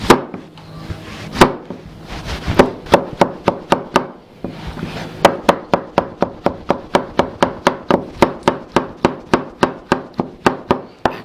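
Knife chopping tomatoes finely on a cutting board: a quick, steady run of sharp, close taps at a regular rhythm, with a few brief pauses early on before the chopping settles into a fast, even pace.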